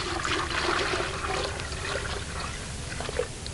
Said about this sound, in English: I'll add some clean water to that.